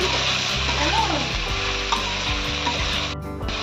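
Ground turmeric, coriander, cumin and salt frying in a pan for a fish-head and bottle gourd curry, a loud steady sizzle with occasional stirring scrapes.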